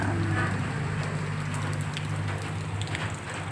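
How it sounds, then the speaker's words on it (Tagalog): Steady rain patters close by on a mountain banana farm in a continuous soft hiss of drops on surfaces, with a low hum underneath. "Patak, patak, patak ang ulan."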